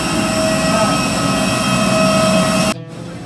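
A large airliner's engines roar and whine steadily at an airport before boarding, loud and close, then cut off sharply near the end, leaving a quieter hum.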